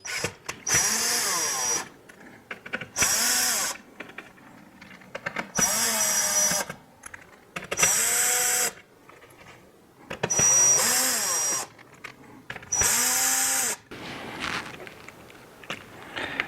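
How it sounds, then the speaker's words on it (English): Power screwdriver repeatedly removing the six perimeter screws from a Vizio TV's internal board area during a repair, six loud whirring bursts of about a second each, close up with short pauses between. "Now we're going to start removing the 6 perimeter screws."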